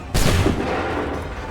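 A massed musket volley in Assassin's Creed III, one sudden loud crack of gunfire with a rumbling boom that decays over about a second, close and alone.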